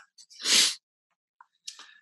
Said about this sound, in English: but I started sneezing instead